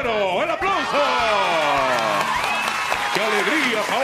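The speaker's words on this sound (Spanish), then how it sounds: "¡El aplauso!" Crowd applause and cheering at a football club's presentation of its new number 9 striker in Brazil, with a voice speaking loudly over the clapping throughout.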